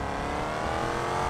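A car engine revs in a driving video game, a loud, steady, droning roar that holds for over a second with no voices over it.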